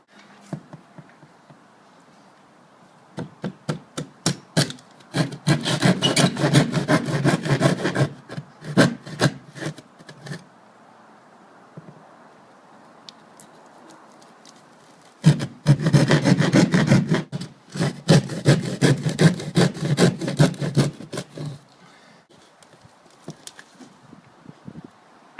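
A hand saw cuts through wood while a ceiling TV mount is installed, with two long bursts of rapid back-and-forth rasping strokes, separated by quiet pauses and scattered knocks.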